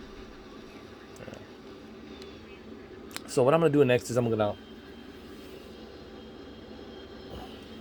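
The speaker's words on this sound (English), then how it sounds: "I want you guys to see this airplane in action getting closer to the water" A DC Designs F-15E jet in a video game flight simulator produces a steady, even engine drone throughout while someone talks over it.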